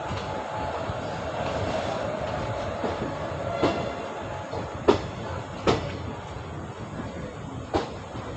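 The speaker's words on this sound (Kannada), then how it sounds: "ಫೈನಲಿ ನಮ್ಮ ಟ್ರೈನ್ ಬಂದಿದೆ ಈಗ ಮಂಗಳೂರು ಸೆಂಟ್ರಲ್ಗೆ." A train on the Bangalore to Mangalore line runs steadily along the rails with a continuous rumble, punctuated by several sharp clanks and joint knocks at irregular intervals.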